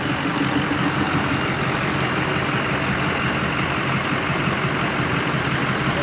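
An old small tractor engine runs steadily outdoors among vintage farm machinery, a loud continuous low mechanical rumble with no pauses or talk.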